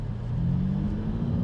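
Lexus UX250h F Sport compact hybrid SUV pulling hard in Sport Plus mode, a low steady engine drone with rising hum heard from inside the cabin, brief and unbroken.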